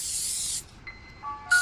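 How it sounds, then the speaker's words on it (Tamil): Pepper spray hisses in a sharp burst in the Roblox Granny game, a bright sustained spray that cuts off abruptly, followed by quiet game tones and the start of another hiss. "அடியில நான் பெப்பர் ஸ்ப்ரே அடிக்கிறேன்"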